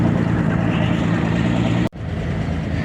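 A Corvair-powered boat engine idles with a steady low rumble, loud and close, briefly cutting out for a moment before the drone resumes.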